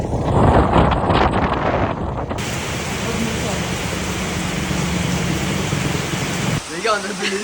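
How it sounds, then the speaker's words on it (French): Heavy tropical rain in Bali pours in a dense, constant hiss, with gusty wind buffeting the microphone at first and a brief rustle near the end. "J'ai jamais eu une pluie autant, vraiment."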